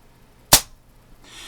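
A single sharp shot from a Daisy Red Ryder BB pistol, a loud close snap that cuts off almost at once, followed by quiet and a faint rustling of handling noise afterward.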